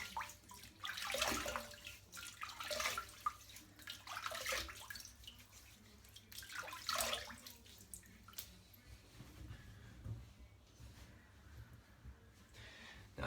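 Water is splashed over a head before shaving, making quiet, uneven bursts of pouring and splashing that ease off into faint drips and trickles.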